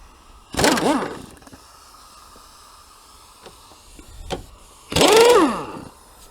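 Two loud whirring power-tool bursts loosen 12 mm strut housing bolts on a 2010 Kia Rio. The bursts are separated by a quiet stretch with faint clicks and clunks of work.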